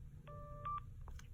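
A Motorola Razr flip phone plays a short run of electronic tones while powering off: a sustained beep, two quick tones, then a few faint trailing blips, clear and close.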